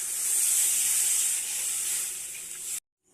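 Water poured into hot, fried spiced masala for a hilsa fish curry with gandharaj lemon gives a loud, bright hiss and sizzle that holds steady, eases slightly, then cuts off abruptly.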